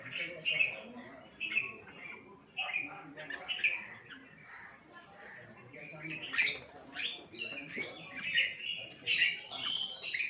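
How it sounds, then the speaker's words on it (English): Small birds chirp and sing in the morning, with bright, quick, high-pitched calls repeating in bursts at close range and growing busier toward the end, while a voice talks softly underneath. "Every day I open my eyes with their chirping and singing."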